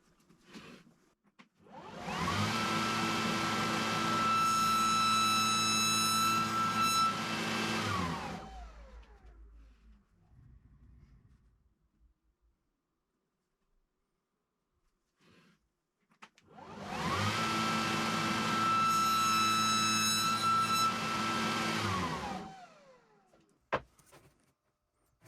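A Festool saw fitted with a wide kerf blade whines up and cuts a test notch in wood for several seconds, winds down into silence, then runs a second, similar cut close and loud.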